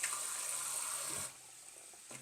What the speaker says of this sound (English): washing our eggs. I usually have really hot water here